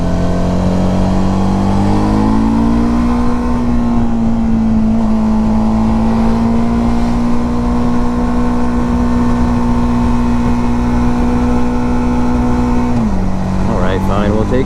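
A Suzuki V-Strom 1000 motorcycle engine, around 60 foot-pounds of torque, riding through Ecuador, drones loudly and steadily as it pulls up through the gears, its pitch rising and holding before dropping at a shift near the end.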